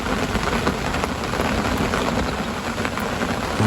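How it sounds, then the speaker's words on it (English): Warm, mild rain beside a rising river, falling steadily as a dense, even hiss of drops on surfaces, loud and close with no pauses. "especially when it's warm rain like this and mild"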